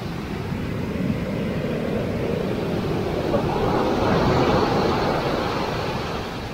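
Ocean surf rolls in near San Francisco as a continuous, moderately loud wash of breaking waves that swells briefly midway, with wind in the background.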